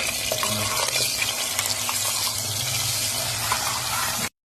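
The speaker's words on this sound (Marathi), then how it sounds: "ते टोपामध्ये तेल गरम करते. आता वाटून घेतलेला मसाला टाकते." Ground homemade masala fries in hot oil in a pot, giving a loud, continuous close sizzle and crackle with stirring scrapes for mutton curry, ending abruptly.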